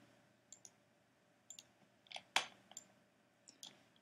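Computer mouse clicks while working in geometry software, a handful of crisp, close clicks, some in quick pairs, spread across a quiet background.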